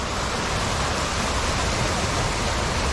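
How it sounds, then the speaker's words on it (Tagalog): Strong flood water rushing through a creek, a loud, steady broadband roar close by with no pauses and no voices. "lakas ng baha"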